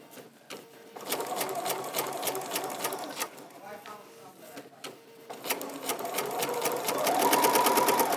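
A sewing machine stitches a gentle curve during freezer paper piecing, running in short bursts with rapid clicking pauses between them, close by and clear, with a faster, steadier run at the end.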